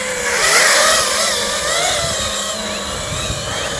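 An FPV drone lifting off and flying, its motors giving a loud, steady high-pitched whine with wavering pitch as the craft climbs and manoeuvres, close to the microphone throughout.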